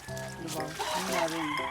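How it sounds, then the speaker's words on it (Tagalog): Chickens cluck and a rooster crows nearby, several overlapping bird calls rising and falling over a short stretch. "Ang daming manok"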